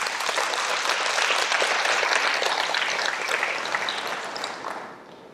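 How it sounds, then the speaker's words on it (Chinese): An audience at a lecture hall talk bursts into sustained applause, a dense wash of clapping from many hands that holds steady for several seconds and then fades out toward the end. "来，鼓掌。"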